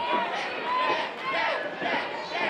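A wrestling crowd cheers and shouts in support of former champion Dak Draper, a dense, sustained roar of many voices swelling and dipping in waves throughout.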